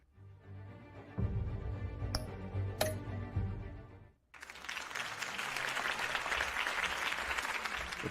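After a quiet start with a couple of sharp ticks, a burst of crowd applause in a Batman video game on Xbox One breaks out and holds steady, loud and dense, to the end.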